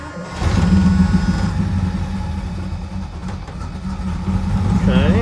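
A Mercedes 6.9 engine starts cold and settles into a steady, loud, low idle, humming nearby without revving.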